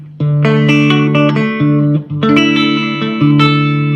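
Guitar played through a 100-watt Mark III amplifier on a clean setting, close, loud sustained chords ringing out in two phrases with a brief pause between them.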